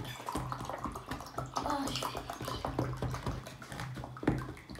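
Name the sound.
pouring a cup of water into a mixing bowl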